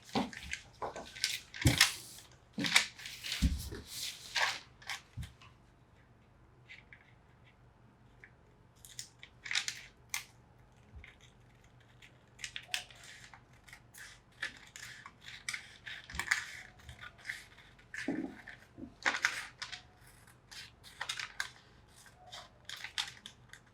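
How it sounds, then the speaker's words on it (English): Scissors snip through fabric while a trouser pocket bag is cut out, a series of short, faint crisp cuts and rustles spaced irregularly across a quiet room. "So I'll go ahead to cut out this."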